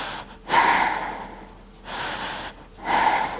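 Deep rhythmic breaths during a Pilates core and abs exercise with head and shoulders lifted, three forceful, breathy exhalations close to the mic, spaced about a second apart with short pauses between.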